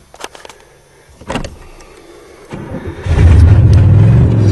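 An old, rusty Oldsmobile 88 that has sat for three years on old gas gets cranked: brief clicks and a couple of short starter bursts come first, then a loud, sustained cranking churn takes over at close range.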